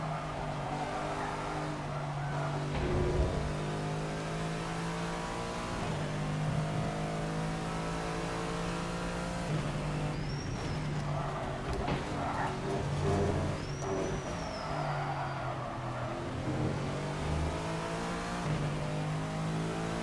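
Race car engine in a racing video game revs and shifts continuously through the lap, a loud steady drone with rising and falling pitch as gears change, plus brief tire squeals.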